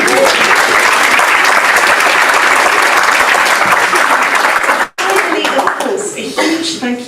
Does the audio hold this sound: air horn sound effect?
no